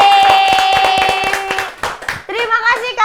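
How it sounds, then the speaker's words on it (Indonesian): Studio audience claps for a guest on an Indonesian talk show, a short burst of hand claps under overlapping chatter and laughter, with speech continuing as the clapping fades. "kita kasih tepuk tangan sekali lagi"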